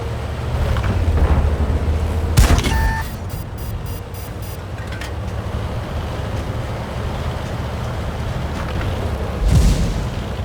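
Explosions from a tank video game as an enemy tank is destroyed: a sharp loud boom near the start with beeping tones, a low rumbling bed throughout, and a second heavier blast near the end.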